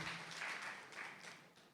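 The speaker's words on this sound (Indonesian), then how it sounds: "Boleh kita kasih tepuk tangan buat Tuhan Yesus yang baik" A church congregation at a Sunday worship service in Bekasi applauds, a soft, fairly distant patter of many hands that fades slightly toward the end.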